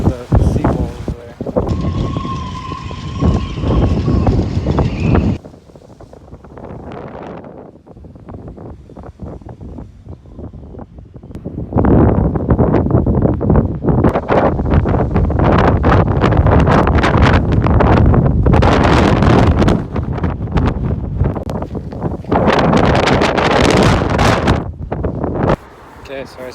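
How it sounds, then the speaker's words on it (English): Strong gusty wind buffets the microphone beside a seawall where waves wash over, roaring loud and close in long sustained blasts with brief lulls, and a voice speaks briefly near the start. "It's so windy."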